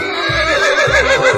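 A horse neighs in a drawn-out, wavering whinny that rises and falls over a second or so, loud and close, with low thumps beneath it.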